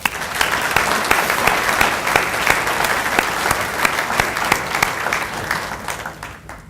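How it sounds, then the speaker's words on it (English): An auditorium audience at a university chancellor's annual address breaks into sustained, dense applause, a steady roar of many hands clapping that fades near the end. "may you now thank each other with a round of applause."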